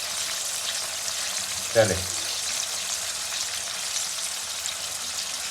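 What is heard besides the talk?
potatoes and tomato sizzling in frying masala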